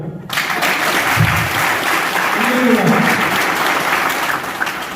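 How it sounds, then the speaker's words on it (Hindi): An audience at a seminar in Etawah, Uttar Pradesh bursts into loud, sustained clapping that fills the whole stretch, a dense crowd applause with no voices on top. "इनके लिए ताली बजाऊंगा।"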